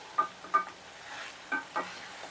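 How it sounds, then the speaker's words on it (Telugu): Brinjal and raw mango curry stirred in a pan, a few soft scraping strokes of a spoon over a faint simmer, quiet and close. "ఒకసారి కలుపుకుందాం వంక మామిడికాయ కలుపుకొని ఉడికిపోతుంది"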